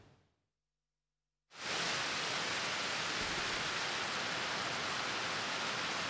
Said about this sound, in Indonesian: Hujan deras disertai angin kencang Selasa malam kembali mengguyur Kota Palangkaraya, Kalimantan Tengah.